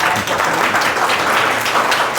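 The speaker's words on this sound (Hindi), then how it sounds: "ज्ञानवर्धक बातों के लिए एक बार जोरदार तालियां।" Loud, dense applause from an audience at a student book discussion, steady clapping filling the room without a break and no voices rising above it.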